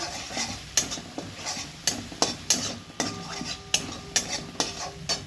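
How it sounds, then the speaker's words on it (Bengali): Capsicum being stirred in a pan to dry out for a sweet-sour-spicy capsicum chutney, with a steady sizzle broken by repeated sharp scrapes and clinks of the spoon against the pan, nearby and with no talking. "ক্যাপসিকামটা এইভাবে নাড়িয়ে নাড়িয়ে শুকিয়ে ফেলতে হবে যাতে কাঁচা গন্ধটা না থাকে"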